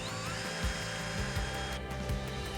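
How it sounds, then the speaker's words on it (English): A power drill bores pilot holes into HDPE sidewall pieces for an epoxy resin table mold, giving a steady, close, high whine with faint periodic thumps and no talking. "we're also going to be drilling into the sidewall pieces of HDPE"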